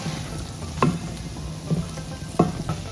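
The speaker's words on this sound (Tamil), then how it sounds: "இப்போ கிளறி விட்டுட்டு இது ஒரு 5 to 10 மினிட்ஸ் ஸ்லோ ஃப்ளேம்லேயே வச்சு இப்படி பண்ணிக்கலாம்" Okra for vendakkai poriyal fries in a pan over a low flame, a steady soft sizzle running throughout while a spoon stirs with a few distinct scraping clinks against the pan.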